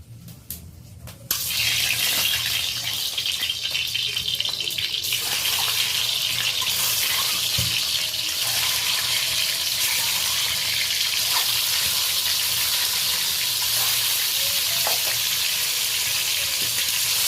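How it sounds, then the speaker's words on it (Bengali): Eggs drop into hot oil for an egg korma and burst into a loud, sudden sizzle that then holds as a dense, continuous frying hiss. "তো তেলটা গরম হয়ে গেছে, আমি ডিমগুলো"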